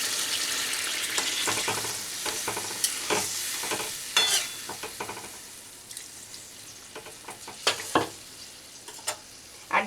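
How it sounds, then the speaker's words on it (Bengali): Sautéed potato and pointed gourd sizzle gently in a pan as water goes in, with scattered stirring scrapes and clinks over a quiet, steady bubbling, no voices. "এবার আমি জল দিয়ে দেব পরিমাণ মতো, যাতে আলু আর পটলটা সেদ্ধ হয়।"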